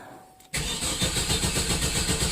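After a moment of quiet, a Trailblazer engine with newly replaced fuel injectors and rail cranks and catches abruptly, then settles into a loud, steady, rhythmic idle.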